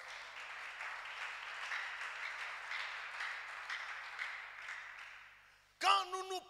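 A church congregation applauds and cheers for the Lord in a steady wash of clapping from a room full of people, fading out before a voice speaks at the end.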